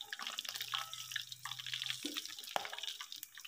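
Oil drips and trickles off fried eel as it drains, close soft liquid patter with a few light clinks of kitchenware and a brief low hum, no speech.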